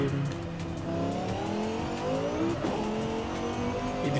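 A 2013 Dodge Viper SRT GTS Anniversary Edition roars steadily at high revs with rising and falling engine pitch, tires squealing, loud and close with no talk throughout.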